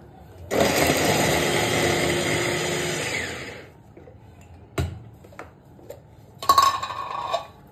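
An electric food chopper whirs loudly for about three seconds while chopping onions in a home kitchen, then stops, followed by a few clicks and knocks as the bowl is handled.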